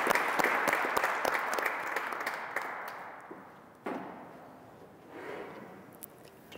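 Audience applause at an evening lecture event, a lively burst of clapping that gradually thins out and fades, followed by a lone thud and a brief faint flurry of scattered claps.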